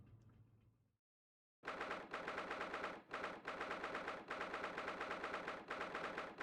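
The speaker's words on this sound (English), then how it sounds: "Sounds like pure gunshots." Rapid bursts of video game gunfire, loud and close, after a brief near-silent gap: sustained automatic shots chattering in several runs separated by short breaks.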